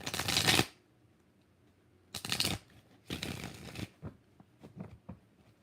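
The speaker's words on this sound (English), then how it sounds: "Two more shuffles." Tarot cards being shuffled up close in three distinct bursts of riffling with quiet pauses between, then a few soft taps and handling sounds.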